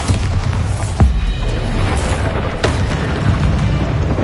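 Spell explosions from Confringo and Bombarda in the Hogwarts Legacy video game: a steady low rumbling roar with a sharp boom burst near the start and another softer blast later, loud and continuous.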